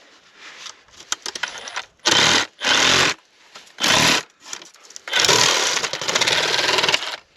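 Short bursts of sawing as white plastic pipe is cut and trimmed during a hole repair, three quick strokes followed by a longer continuous cut, close and loud.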